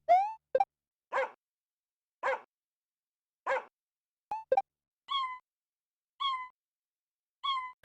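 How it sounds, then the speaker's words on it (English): Koopa without its shell bouncing on music blocks in the Super Mario World theme of Super Mario Maker 2, giving a series of short electronic dog barks followed by higher synthesized meows, each sound separate and clear with silence between. "If a Koopa without its shell goes onto a music block in the Mario World theme, then it will make a barking noise if it's green or a meowing if it's red."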